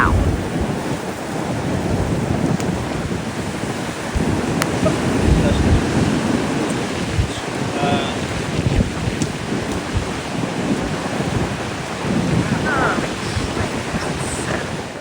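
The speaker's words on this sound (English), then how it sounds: "Just love the sound of the waves wafting up on the shore." Ocean surf at Cannon Beach on the Oregon coast during a very high king tide: a loud, continuous roar of waves washing ashore with rumbling breaks and gusty wind buffeting the microphone, no talking.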